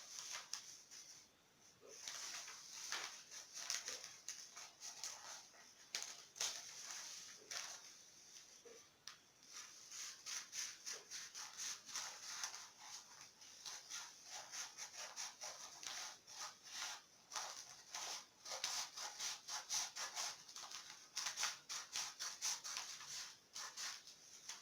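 Scissors cut out fabric for a flare peplum, making soft repeated rubbing and snipping strokes in an uneven rhythm. The sound is close but quiet, with no talking.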